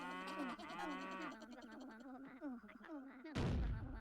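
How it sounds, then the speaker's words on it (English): A cartoonish cow weapon in the Worms Armageddon artillery game gives a long, loud, wavering moo, then a sudden blast goes off as it lands. "Cow just goes straight over."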